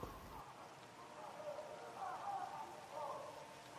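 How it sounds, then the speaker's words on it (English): Rain falls in the video game Dying Light under cloudy weather, a soft, steady patter that stays faint and even throughout, with no voices. "the weather's kind of cloudy and rain is kind of falling"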